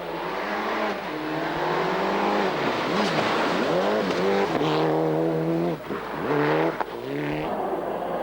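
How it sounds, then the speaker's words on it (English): A 1997 Mitsubishi Lancer rally car powers through a forest stage, its engine loud and close, revving hard and rising and falling in pitch through repeated gear changes without a break. "Championship leader Tommy Mäkinen's Mitsubishi Lancer was first into the forests."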